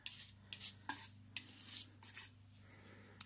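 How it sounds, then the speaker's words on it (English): A spoon scrapes and stirs a foraged yellow ochre pigment paste in a small dish, giving soft, gritty strokes in an irregular rhythm. The sound is close and quiet, and nobody speaks. "So I will continue to mix this up until it is a nice consistent paste."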